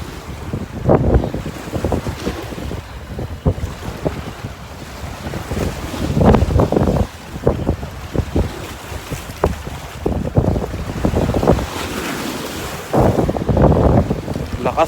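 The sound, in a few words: strong cold wind on a fishing boat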